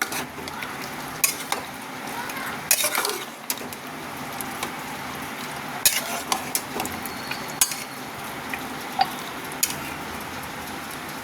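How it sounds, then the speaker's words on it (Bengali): Mutton kosha is stirred in a pressure cooker over a constant frying sizzle, with a spoon scraping and knocking against the metal pot at irregular intervals, close by and with no voices. "কুকারে মাটন কষাটা ঢেলে দিলাম। এবার এটার মধ্যে কষিয়ে নেবো ভালো করে।"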